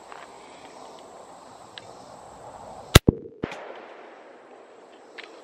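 A single sharp rifle shot from a 350 Legend or 30-30 is fired outdoors during a chronograph test, one loud crack with a short echo over a background of insects.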